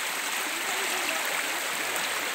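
Heavy runoff from a 90 mm rainstorm rushes across a rural dirt road at Sítio Córrego Quixelô, giving a steady, loud, close broadband wash of flowing water with no pauses and no voices.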